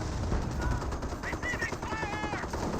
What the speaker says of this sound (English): Sappers firing away, providing some fire support.